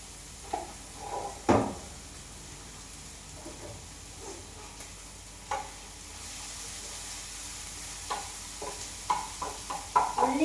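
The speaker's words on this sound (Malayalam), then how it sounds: "ഉള്ളി, തക്കാളി, വെളുത്തുള്ളി, ഇഞ്ചി, പച്ചമുളക് ഇട്ടിട്ട് നല്ലോണം ഒന്ന് വാട്ടിയെടുക്കാം." Onion, tomato, garlic, ginger and green chili sautéing in a pan at home, a soft steady sizzle broken by a few sharp clatters of a utensil stirring and scraping, fairly close, with no talk.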